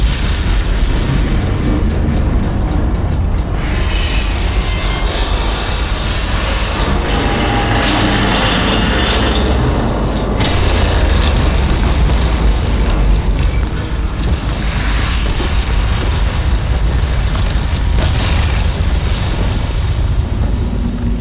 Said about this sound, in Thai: ทีนี้ก็ระเบิด ทีนี้ก็สะพานแตกหักแล้วฮะ